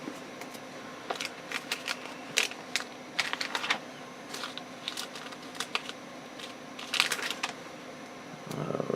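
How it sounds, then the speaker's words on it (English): Hymnal pages rustle and flip in quick, irregular bursts, crisp close-up page turns and shuffling with quiet gaps between them. "you can probably hear the pages turning"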